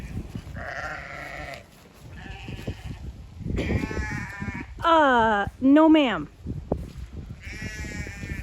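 Several sheep bleat loudly nearby, with long wavering cries overlapping, while a person speaks briefly between them amid outdoor shuffling.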